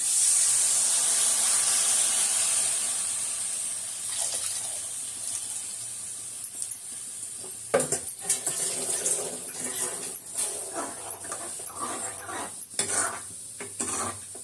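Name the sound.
pouring dissolved tamarind water into the kuzhambu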